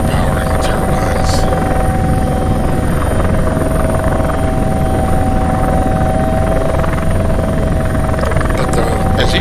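Aircraft turbine engines in the flight simulator Prepar3D V5 give off a steady, loud, unbroken roar with a constant high whine layered on top, holding level throughout.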